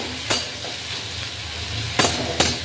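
Ground onion, garlic and ginger being stir-fried in a pan, a steady sizzle with three distinct clanks of a spatula against the pan, close by and with no talking.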